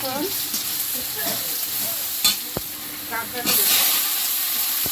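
Dried red chili and garlic frying in hot oil in a wok, a steady sizzle and hiss with a few clinks of stirring, close and alone with no talk.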